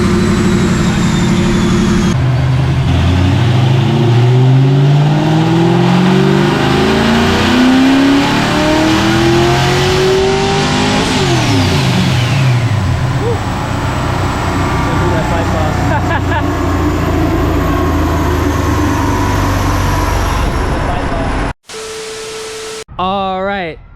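A built, supercharged two-valve Ford Mustang V8 revs hard on a dyno, rising loudly through several sweeping pulls toward 5,000 RPM with a lean condition, then cuts off abruptly near the end.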